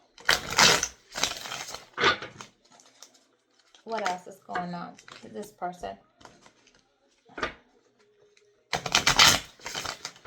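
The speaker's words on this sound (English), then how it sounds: "Let me shuffle these right quick." A deck of tarot cards is shuffled in quick, crisp riffling bursts at the start and again near the end, with someone talking in between.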